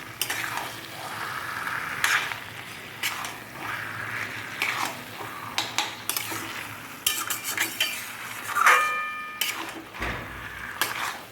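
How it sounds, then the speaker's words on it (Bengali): Taro leaves fry in a kadai with roasted spice powder and green chillies, a spatula scraping and clanking against the pan in repeated stirring strokes over a low, continuous sizzle, close and fairly loud. "কন্টিনিউ নাড়তে হবে, নয়তো কড়াইতে লেগে যাবে।"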